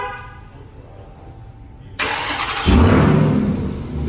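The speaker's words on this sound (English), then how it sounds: "The truck starts up." A Ram 1500 TRX pickup is started remotely: a short horn chirp sounds, then the engine cranks and fires into a loud, rumbling idle close by.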